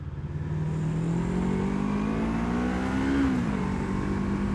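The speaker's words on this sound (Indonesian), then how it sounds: "suara yang berisik itu tanda motor ini aman-aman aja, tanda motor ini nggak akan overheat" Steady, loud drone of an SM Sport SM3 400cc motorcycle engine running, a continuous low hum with a slight rise in pitch before settling back, no talk over it.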